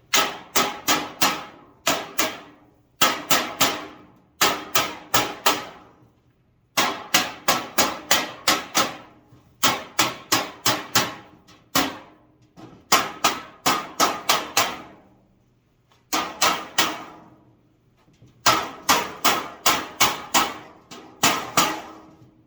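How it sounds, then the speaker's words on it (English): Sharp metallic hammer strikes on a 3-tier heavy-duty metal garage shelving unit come in quick bursts of several blows, pausing between groups, loud and close with a ringing clang. "we're going to get Mr. Hammer"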